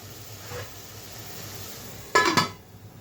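A metal lid is set on a cooking pan with a couple of sharp clanks near the end, over a faint low hum in a kitchen where spiced egg is being prepared.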